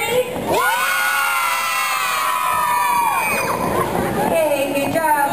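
Children at a Hokey Pokey event scream and cheer loudly as a crowd, a sustained high-pitched group yell lasting several seconds, close and energetic.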